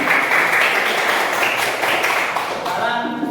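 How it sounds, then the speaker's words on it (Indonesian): Classroom applause for a student group, a dense, loud burst of many hands clapping together in a room, steady throughout and fading slightly at the end. "Ya, tepuk tangan untuk kelompok."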